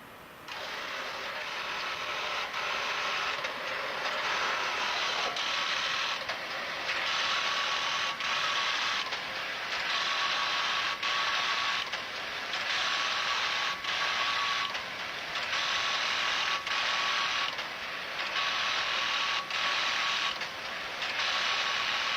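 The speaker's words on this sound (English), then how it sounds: "The interpreter machine senses the holes in the card and prints the characters read along the top of the card" An ICL punched card interpreter machine runs steadily, sensing holes in the cards and printing characters along their tops. It gives a loud, continuous mechanical clatter broken into regular rhythmic bursts, with a faint steady tone beneath. No one speaks.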